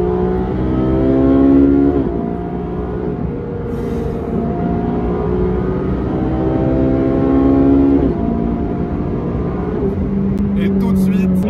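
A Ferrari 458 Speciale's high-revving engine climbs repeatedly through gears, loud and close, with sharp shifts and a rising, wailing tone.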